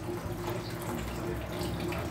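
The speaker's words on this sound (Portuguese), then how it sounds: "Toda vez tem que ligar água pra ela beber." Water runs steadily from a household tap left on for a cat to drink, a continuous close hiss and splash that fills the moment without any speech over it.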